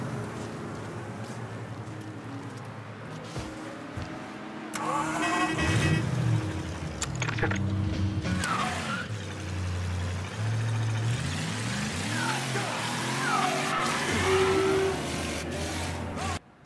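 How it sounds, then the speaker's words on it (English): A car engine in Mafia 3 idling and revving through several rises and falls, a mid-pitched motor sound close by with brief voices and game effects around it. "Here's your car, boss."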